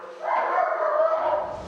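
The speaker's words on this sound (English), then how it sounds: "it's a job for Blade, the police dog." Blade, a police dog, gives a single drawn-out whining bark lasting just over a second, fairly near and alone.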